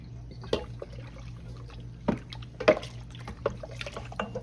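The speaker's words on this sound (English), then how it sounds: "Now, you're gonna add regular milk to this." Milk being poured into a sweet rice pudding mixture gives soft, faint liquid splashes and trickles in a few irregular bursts against a quiet background hum.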